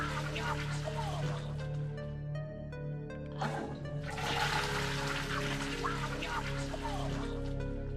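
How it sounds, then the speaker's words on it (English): A toilet in a horror video game flushes with a loud, gurgling rush of water that briefly dips, then surges again and keeps draining steadily. "I flushed it."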